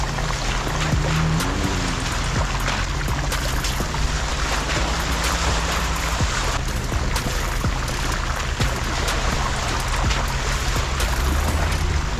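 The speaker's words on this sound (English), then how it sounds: "Here we find a creek that runs through a giant slab of granite." A creek runs across a giant granite slab, giving a steady, loud wash of rushing water throughout with faint low rumbles underneath.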